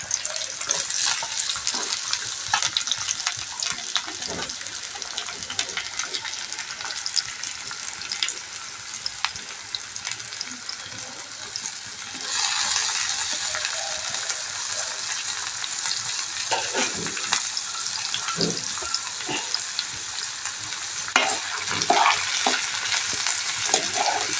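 Onions and green chillies frying in hot oil, a steady close sizzle with occasional stirring scrapes, continuing without talk.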